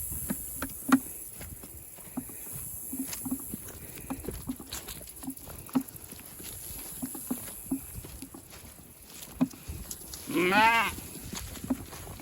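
Sheep bleat on a farm, with one clear, wavering bleat close by near the end after scattered soft calls, set over a steady background hum and light patter of hooves.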